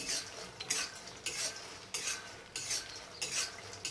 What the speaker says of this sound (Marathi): मखाने आता आपल्याला एकदम लो फ्लेमवरती कुरकुरीत होईपर्यंत, छान क्रिस्पी होईपर्यंत भाजून घ्यायचे आहेत